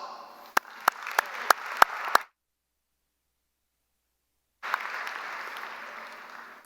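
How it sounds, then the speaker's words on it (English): Audience applause at a May 2021 College of Business Administration commencement: a dense wash of clapping with a few sharp, close claps standing out, cutting to silence for a couple of seconds before the crowd's applause resumes and fades slowly. "Now that right there is worthy of a round of applause."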